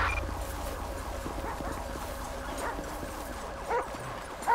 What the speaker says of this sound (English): Get the dog.